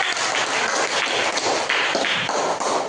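Students in a classroom applaud a classmate with a short burst of brisk, dense clapping from many hands, loud and close throughout.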